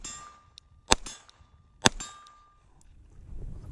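Two sharp Glock 19 Gen 5 pistol shots about a second apart, each followed by a bright ringing clang from steel targets at distance, outdoors with a faint lingering tone between.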